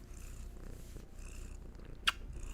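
A close, steady low purr rumbles in rhythmic pulses, with a single brief sharp click near the end.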